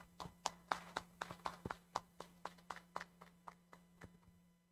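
At a solemn municipal council session granting honorary citizenship, faint, evenly spaced hand claps ring out in a steady rhythm over a low electrical hum, gradually tapering off.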